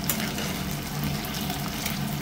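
Potatoes fry with onion in a pan for an eggplant and dried fish dish, giving a steady soft sizzle that stays close and even throughout, with no voices.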